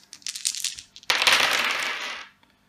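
Dice rattle and tumble across a table during a Time of Soccer board game, a short rattle followed by a longer, louder rolling clatter that lasts over a second before stopping, heard alone and up close.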